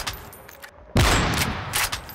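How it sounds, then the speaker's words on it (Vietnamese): A single loud gunshot fired at Siren Head in a video game, a sudden burst after a moment of near silence, followed by a ringing tail and a second weaker blast. "Bây giờ mình bắn thử xem nó chết không."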